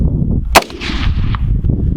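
A single sharp rifle shot cracks out during a prairie dog hunt outdoors, loud and close, followed by a brief echo over steady wind rumble.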